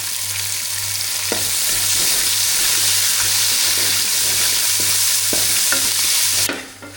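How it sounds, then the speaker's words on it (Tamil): Onions sautéing with salt in a pan for a meal maker gravy give a loud, steady sizzle with frequent stirring scrapes, continuous throughout and cutting off abruptly near the end; no one speaks. "வெங்காயம் சேர்த்துக்கலாம் வெங்காயம் நல்லா வதங்கிறதுக்கு உப்பு சேர்த்துக்கலாம்"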